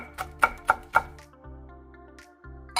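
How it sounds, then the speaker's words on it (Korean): A knife slices a red chili pepper on a cutting board: about four sharp, quick chops in a row, then the cutting stops while soft music carries on underneath. "홍고추 1개를 썰어줍니다."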